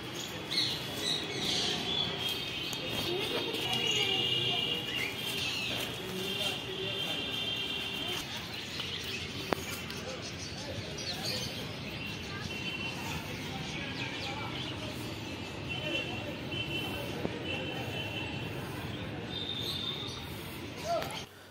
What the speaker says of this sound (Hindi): और गाइस ये तोते बहुत सुंदर दिख रहे हैं